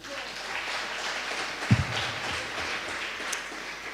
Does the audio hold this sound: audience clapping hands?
yes